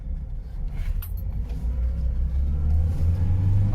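A 1988 Lada Niva 4x4 pulls away in first gear, its engine rumbling low and building steadily in a close, loud, continuous drone with no talk.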